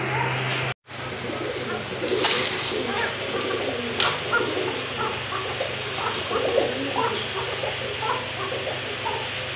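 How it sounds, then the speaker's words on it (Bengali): A pair of koka pigeons coo softly and repeatedly, with a low steady hum underneath and other bird calls around them. One brief dropout comes near the start. "দেখলেন আপনারা একজোড়া কোকা কবুতর কত সুন্দর কোয়ালিটিফুল। আর ডাকটা তো মাশাআল্লাহ খুবই সুন্দর।"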